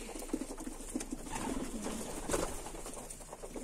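Pigeons cooing in a loft, several soft, low cooing calls repeating close by, with light rustling in between.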